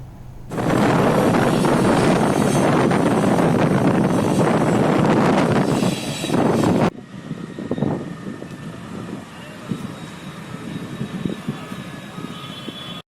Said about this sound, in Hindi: भारतीय टोली इंडियन एयर फोर्सक हेलीकॉप्टर 12 बीघा में निरीक्षण अवतरण करौने अछि।